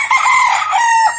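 A single gamefarm rooster crows close by, one loud, drawn-out call lasting about a second.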